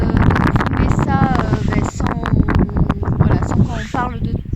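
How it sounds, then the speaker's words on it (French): Strong wind gusts across Lac du Salagou, buffeting the microphone with a loud, continuous rumble while people talk over it throughout. "je pense qu'il y a beaucoup de vent"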